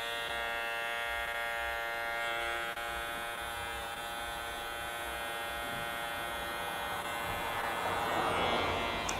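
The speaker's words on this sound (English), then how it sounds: "And on the ear, use the trimmer corner." Electric hair trimmer buzzing steadily while cutting a man's hair around the ear, close and continuous with a bright mechanical hum and no talking.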